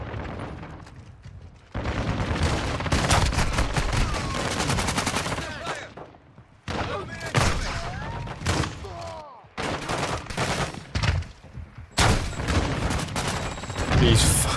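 Gunfire in the video game Call of Duty MW3, with shotguns mentioned, arriving as loud repeated bursts and blasts in several clusters separated by short quiet gaps.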